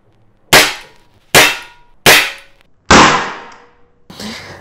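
A Colt Python .357 CO2 air revolver firing BB pellets gives four loud, sharp, close reports about a second apart, each cracking and quickly fading, then a softer fifth pop at the end.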